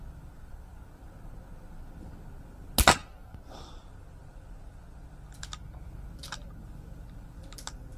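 One sharp, loud crack of an air rifle shot at a target stands out, followed by a few faint clicks and small taps in a quiet room.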